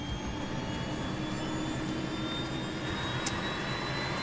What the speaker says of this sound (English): And he records the sound of the engines from inside the cockpit.